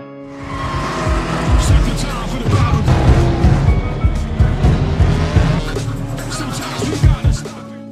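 Race cars roar through a street race, engines loud and close with overlapping revving and squealing tires, mixed with film sound effects and occasional voices.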